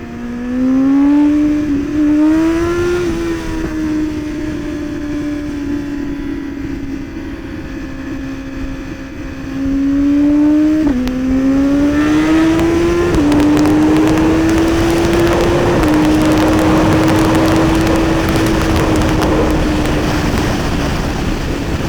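A BMW S1000RR motorcycle pulls hard at full throttle, its engine note climbing loudly in pitch, dropping briefly at each gear shift, then climbing again, close and continuous for the whole stretch.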